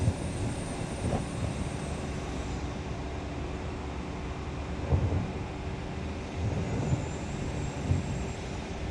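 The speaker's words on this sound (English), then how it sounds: "you can hear the engine working really hard just to make it up this lower portion of the steep hill climb" A 2021 BMW X5 45e straining its engine on a steep off-road hill climb, giving a steady, loud, low rumbling drone with slight surges and no voices.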